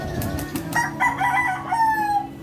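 A fighting cock crows loudly and close by, its call rising and wavering through a couple of seconds, preceded by brief clucks and scratching sounds.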